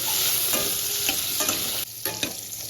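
Small shrimp heads frying in oil with turmeric and salt, a continuous close sizzle broken by several stirring scrapes and a brief dip in the hiss.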